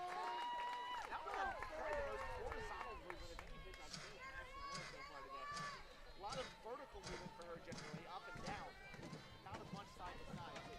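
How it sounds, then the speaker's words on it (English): A softball crowd at a college game between Michigan and Northwestern cheers and chatters throughout, with voices, shouts and some clapping forming a busy, continuous stadium roar. "This crowd getting into it."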